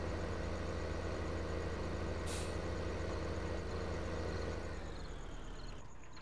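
Engine of a vehicle reversing in Farming Simulator 15, a steady loud diesel drone with a brief air-brake hiss midway, continuous throughout and easing slightly at the end.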